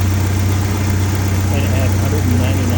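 A 1991 Jeep Wrangler's 2.5 liter four-cylinder with 199,000 miles runs at a steady idle, a loud low drone held constant while someone talks over it.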